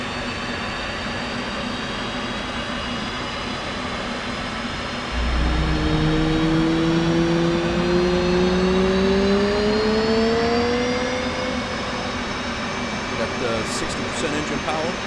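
An F/A-18 Hornet jet engine spools up during startup in the DCS flight simulator, a steady whine with rising tones that climbs in pitch from about five seconds in, over a constant background hum.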